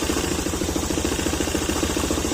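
Honda Click 125 scooter engine idling with a knocking fault, a close, steady, rapid rhythmic clatter and thump over the motor's hum, with no voices.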